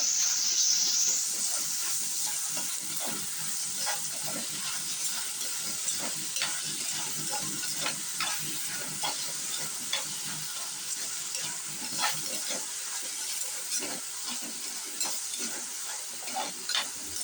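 Onion, tomato, ginger, garlic and curry leaves sautéing in a hot pan sizzle continuously, while a spoon stirs and scrapes through them in a steady run of clicks and scrapes.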